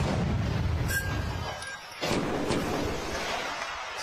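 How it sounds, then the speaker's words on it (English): A sophisticated wheeled cannon fires, a deep boom rising out of dense rumbling noise after a brief drop, followed by a long roaring tail. "It's pretty sophisticated cannon."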